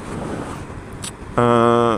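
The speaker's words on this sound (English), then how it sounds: "it's windy out here" Wind buffets the microphone with low rumbling gusts while riding a Harley-Davidson Night Rod motorcycle, then a steady tonal hum cuts in near the end.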